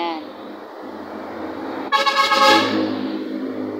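Along a roadside, a vehicle horn blasts loudly midway through, a sustained toot over the low rumble of passing traffic, with a voice speaking near the start.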